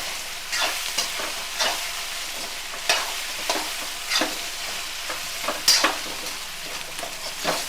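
Fish pieces stirred into rice frying in a pan: a continuous sizzle with repeated scraping spatula strokes at a steady rhythm, close and fairly loud, no voices.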